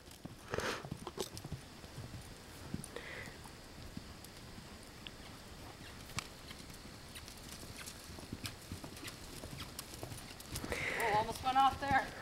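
A horse being ridden bareback trots and canters, hooves clip-clopping in a quick uneven rhythm at moderate distance, with a voice talking over the hoofbeats and a louder burst near the end.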